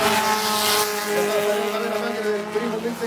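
Fiat 600 race cars compete at a circuit in Valdivia, their engines a steady, fairly loud buzzing whine that holds throughout with little change, like a field of cars passing at a distance.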